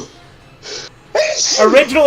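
A single sharp sneeze bursts out near the start, followed right away by someone talking over the tail of it, up close and fairly loud.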